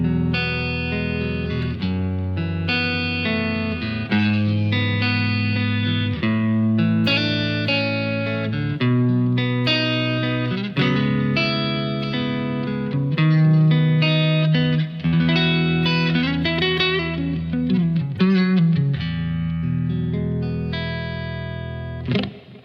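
Electric guitar played with a clean tone through a Boss GX-1 multi-effects processor, steady chords and picked notes ringing continuously for over twenty seconds at a close, even level, with no voices.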